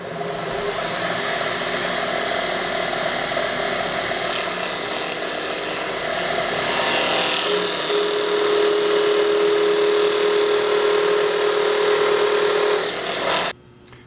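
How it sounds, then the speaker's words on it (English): A spindle gouge cuts a wood spindle on a woodturning lathe, making a steady, close rasping scrape that runs almost the whole clip with a faint motor whine beneath and ends abruptly. "So I'm going to go in a little deeper and make that completely"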